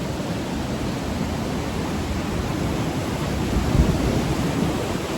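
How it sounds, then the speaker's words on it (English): Rushing water of the Mississippi River at Almonte, Ontario pours in a loud, dense, continuous roar heard up close along the riverwalk, with no voices. "I love hearing the sound of water"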